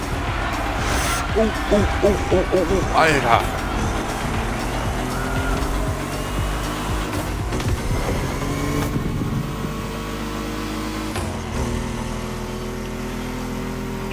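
A Porsche in the arcade racing game The Crew Motorfest revs and accelerates with a steady engine drone and shifting pitch, while someone talks and exclaims over the game audio.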